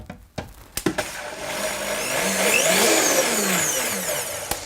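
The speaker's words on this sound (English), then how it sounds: "Now this Vitamix is actually really powerful" A powerful Vitamix blender runs at high speed on a smoothie or nut butter mix, starting with a few short clunks and pulses before settling into a loud, steady whirring roar that fills the rest of the clip.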